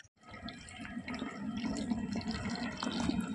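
Herbal hair oil boiling in a pan with guava leaves and marutham flowers, a steady close bubbling and sizzling that swells after a brief quiet start and continues alone without talk.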